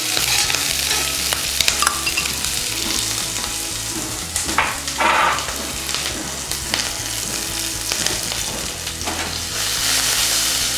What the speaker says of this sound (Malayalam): നമ്മൾ ചോപ്പ് ചെയ്ത് വെച്ചിരിക്കുന്ന ഗ്രീൻ ചില്ലി ആഡ് ചെയ്യാം.